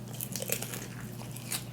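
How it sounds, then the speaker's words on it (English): Someone bites into crunchy fried chicken, butterfly or drumsticks, close to the mic, with a few sharp crisp crackles over a low steady hum and no speech. "Y'all hear that crunch?"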